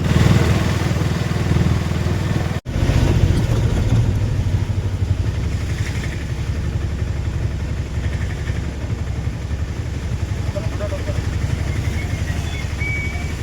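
Auto-rickshaw engine droning steadily on a fast ride toward Jejuri, a loud continuous rumble with road noise throughout and one brief dropout near the start.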